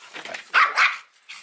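A dog barks near and loud, two or three sharp barks in quick succession with a softer yip before and after, no talking.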